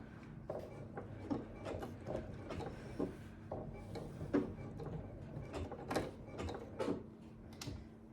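A sewing machine stitches a Christmas tree quilt made with fabric and templates, giving slow, irregular mechanical clatter and thumps at close range, alone without speech.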